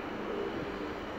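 Helicopter passing overhead during an outdoor walk toward a market, a steady broadband rotor and engine drone, moderately loud and continuous, with no talking.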